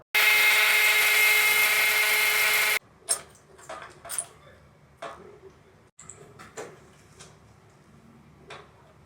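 A power drill drives screws into a motorized screen mount: a loud continuous whir for nearly three seconds, then a series of short clicks and taps from handling parts nearby.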